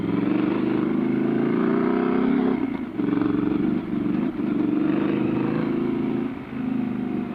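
A Triumph Scrambler 1200 XC motorcycle in sports mode drones steadily while riding, its engine and wind noise loud and continuous with a few brief dips, no speech.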